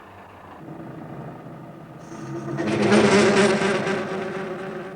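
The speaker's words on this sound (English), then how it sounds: "The noise you can hear is called chatter." A lathe cutting tool chatters against the far end of a long bar held in the chuck at one end, a harsh vibrating whine that builds in the middle and stays fairly loud.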